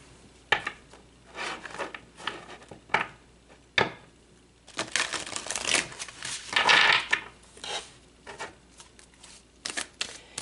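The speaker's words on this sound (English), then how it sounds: "So let's pull some more cards." Tarot cards are shuffled and pulled in irregular bursts of close riffling, rubbing and slapping, separated by short quiet gaps.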